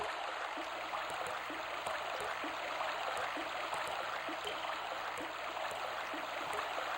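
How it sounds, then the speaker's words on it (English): Steady flowing water from a Magic Knight Rayearth game on the Sega Saturn, a continuous stream-like rush with faint regular ticks, moderately quiet and uninterrupted throughout. "those water effects are great."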